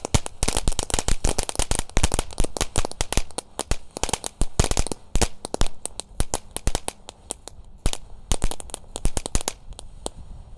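Size 1.9 Roman candle fireworks set off for New Year, a long rapid run of sharp cracking bangs in irregular bursts, loud and close, with no voices.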